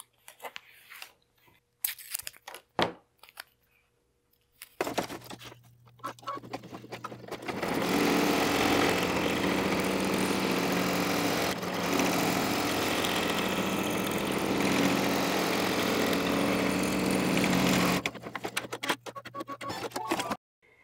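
An embroidery machine stitches a mini stocking in the hoop. A steady, close mechanical whirring hum runs for about ten seconds, with quieter clicks and handling sounds before and after, and no voices.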